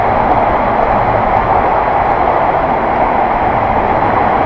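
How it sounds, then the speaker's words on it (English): A continuous loud rumble of trains passes in the Sheffield underground river tunnel, a dense unbroken roar echoing steadily throughout. "You can hear the trains already"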